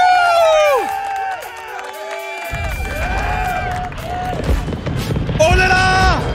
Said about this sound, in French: Applaudissements, messieurs, dames, applaudissements.